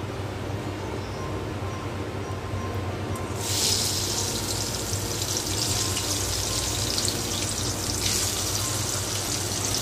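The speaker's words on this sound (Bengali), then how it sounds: "আমি চিংড়ি মাছ কটা তেলে ছেড়ে দিচ্ছি ভাজার জন্য" Steady, loud sizzling of shrimp frying in hot oil, bursting up suddenly a few seconds in and continuing as a dense crackling hiss.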